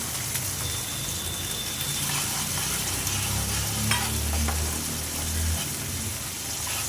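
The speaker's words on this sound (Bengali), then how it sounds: "আবার ভালো করে কষতে থাকবো। একটু হালকা জল দিয়ে দেবো।" Spice paste for a traditional oil-fried koi fish curry sizzles and is stirred in a pan over low heat, with a gush of water added partway through; a steady, close frying hiss without talk.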